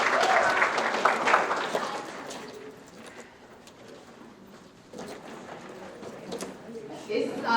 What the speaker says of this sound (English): big round of applause for all of our middle school students